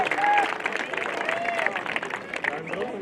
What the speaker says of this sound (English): Can you guys give yourself a big round of applause?